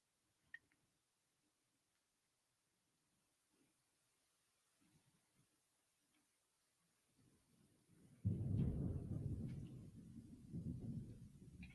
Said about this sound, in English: That's some scary Florida thunder, if you can hear that.